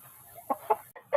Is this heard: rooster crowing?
yes